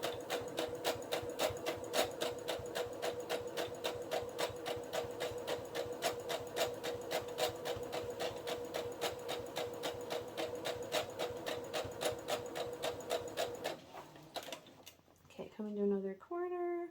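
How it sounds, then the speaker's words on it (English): A sewing machine stitches along one side of a mitered corner, running close and steady in a fast, even rhythm for most of the stretch before stopping, followed by a short spoken remark. "So now I'm going to stitch this side."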